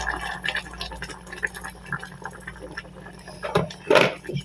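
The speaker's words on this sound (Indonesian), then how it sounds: "Berikutnya kita tuang airnya." Water poured into a cooking pot, a steady splashing fill that swells louder near the end, with faint clinks and no talk.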